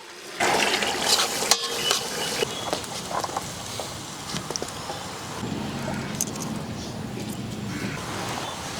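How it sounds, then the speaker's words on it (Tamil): Water poured into a pot for boiling eggs in an outdoor village kitchen, a continuous splashing, gushing fill close by, softening into a steadier trickle toward the end. "முட்டை வேக வைக்க தண்ணி சேர்த்துக்கலாம்."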